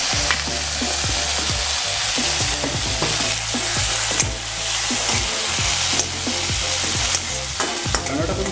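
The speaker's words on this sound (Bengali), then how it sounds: "পেঁয়াজটা একটু গোল্ডেন ব্রাউন হয়ে যাচ্ছে, এই হয়ে যাবে।" Onions frying in oil for a Bengali rohu fish curry, a loud continuous sizzle with a spoon repeatedly scraping and stirring through the pan at a steady rhythm, close up with no talking.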